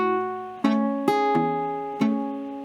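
Plucked guitar notes and chords in a slow fingerpicked measure from the intro of a song, four distinct attacks each left to ring and sustain, played alone and up close.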